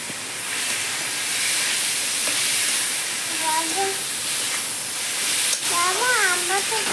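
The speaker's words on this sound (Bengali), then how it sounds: "চিকেনটা পুরো সাদা সাদা হয়ে গেছে একটু ভাজিয়ে নিচ্ছি" Chicken for samosa filling fries in a pan with a steady, broad hiss that fills the whole stretch. A voice talks faintly underneath at moments.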